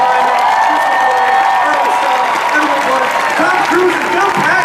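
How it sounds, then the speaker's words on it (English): A large Comic-Con hall audience applauds and cheers a film panel, a loud, continuous wash of clapping with whoops and shouting voices filling the room. "So please, a huge round of applause for a wonderful panel."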